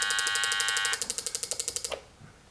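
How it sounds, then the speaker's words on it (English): A Power Probe Tek tester's speaker outputs a sensor signal as a fast mechanical-sounding clicking pulse train, steady at first, then slowing into about a dozen distinct ticks before fading, close and without speech. "now the speaker is activated. You're able to actually hear the signal that's being put out."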